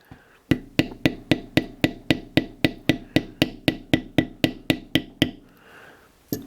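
Mallet strikes a beveling tool on moistened leather, about eighteen sharp, evenly spaced taps in quick rhythm, close and loud, with no talk, then a short quiet tail.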